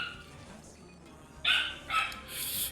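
A pet dog barking as its owners arrive home, two or three sharp barks some distance off, with a higher yip or whine at the end over a quiet background.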